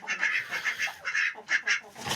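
Ducks call in a quick series of nasal quacks and honks, several bursts close together over a faint, rough background.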